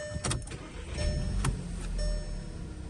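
A 2012 Volkswagen Passat CC engine cranks briefly and catches, then settles into a steady low idle heard close up, with a few faint ticks and no talking.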